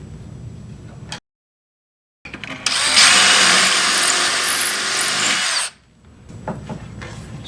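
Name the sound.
power drill boring hole for cabinet knob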